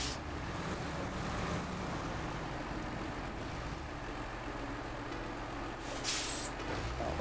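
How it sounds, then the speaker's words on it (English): A heavy truck backs up slowly in the snowy Yukon terrain of SnowRunner, a steady low engine rumble with a hissing air-brake release near the end, no voices over it. "Let's back the truck up a little."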